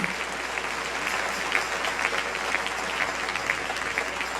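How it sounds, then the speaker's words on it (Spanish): Congregation applauding during an evening church service, continuous brisk clapping from a crowd of moderate size, sustained and even for several seconds with no talking. "Denle un aplauso al Señor en esta preciosa noche."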